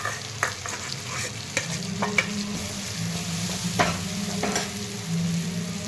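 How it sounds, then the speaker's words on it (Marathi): Spiced masala sautés with ridge gourd pieces for stuffed ridge gourd, giving a continuous close hiss and crackle under frequent spatula knocks against the pan; no voices. "छान या दोडक्याच्या फोडीसोबत हा मसाला पण परतून घेत आहे"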